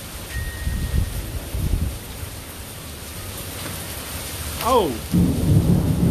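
Rain falls steadily during an Austin thunderstorm while low thunder rumbles and rolls nearby, with a louder crack building near the end. A person briefly exclaims.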